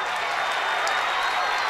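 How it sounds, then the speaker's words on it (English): A loud high school basketball crowd at Wilby High School roars and claps during a tournament final between Naugatuck and Kennedy, a thick continuous wall of cheering and applause with no break. "let's go to the Naugatuck crowd. They are loud here at Wilby High School."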